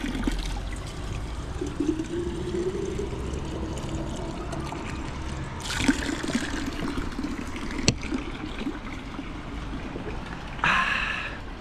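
Spring water trickles steadily outdoors on the Malvern Hills, a soft continuous wash of running water with a few brighter splashy bursts, and no talking.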